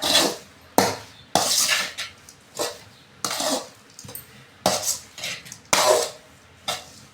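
Metal spoon scraping and clanking repeatedly in a pan while upma ingredients are stirred together, a steady series of close, loud scrapes and knocks with brief pauses.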